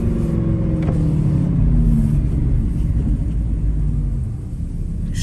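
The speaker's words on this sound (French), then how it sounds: "Et là, on a réellement le son de la Gallardo." Lamborghini Gallardo V10 engine rumbling steadily while driving on the road, a loud, continuous low drone with slight shifts in pitch as it cruises, heard from inside the car.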